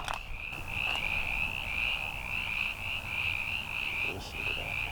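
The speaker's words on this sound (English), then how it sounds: "But yeah, there's frogs." Frogs croak outdoors after a storm, a dense steady chorus of trilling calls pulsing on without pause, moderately close and alone.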